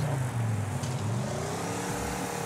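Car engine in the racing video game Wreckfest, a loud continuous roar whose pitch dips and then climbs again as the car loses traction, heard alone.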